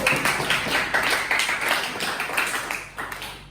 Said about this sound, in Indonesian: beri aplaus pada kelompok 3 yang sudah presentasikan